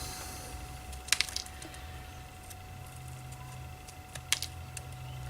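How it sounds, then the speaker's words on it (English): Scissors snip through glimmer paper during card making, two short bursts of crisp cutting clicks over a steady low hum, fairly faint and close. "take your scissors and pretty much you're going to cut off everything from here"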